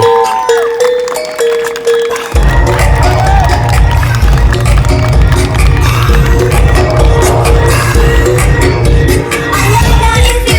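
A crowd at a car-meet award ceremony applauds and cheers loudly over thumping, pulsing music that kicks in after a quieter opening.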